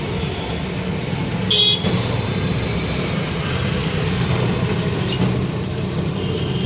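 Dense road traffic rumbles steadily near a bus stand while a short car horn honks once, then a fainter toot sounds a few seconds later.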